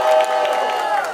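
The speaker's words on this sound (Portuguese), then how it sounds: "faça barulho à minha esquerda para quem preferiu os versos de Versa" A crowd at a Brazilian duo-edition rap battle semifinal cheers and shouts for MC Versa, a loud, dense burst of massed voices that fills the short moment.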